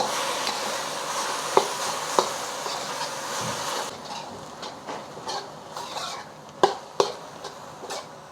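Ground meat frying in a wok while a utensil breaks it up, a steady sizzle under sharp scraping clicks of metal against the pan, easing slightly toward the end.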